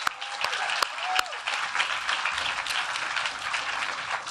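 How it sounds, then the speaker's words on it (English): An audience at a scholarship recipient event claps and applauds steadily, a dense wash of hands with a few sharp individual claps, with faint voices mixed in. "So let's hear it for Tomas"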